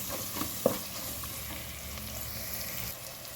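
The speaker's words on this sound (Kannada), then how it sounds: "ಈಗ ಒಗ್ಗರಣೆ ರೆಡಿ ಆಯಿತು" Ginger and garlic tempering sizzle steadily in hot oil in a pan for a fish curry, heard close and fairly quiet, with a brief clink of stirring near the start and no voices.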